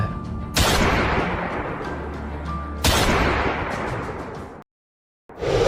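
Two sharp, loud gunshots a couple of seconds apart, each bursting out and ringing into a long rumbling echo before a brief silence.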